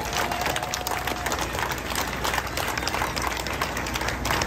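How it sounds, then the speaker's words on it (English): An outdoor crowd at a firefighters' competition opening ceremony gives the Southport Fire Department Honor Guard a round of applause, moderate and steady clapping that sounds somewhat distant and open. "give our Southport Fire Department Honor Guard a hand clap"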